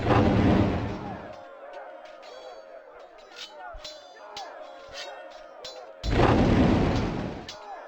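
Artillery fire in Warhammer: Shadow of the Horned Rat arrives as two heavy, broad booming blasts at the start and near the end, with crowd-like chatter and scattered clicks and softer reports in between.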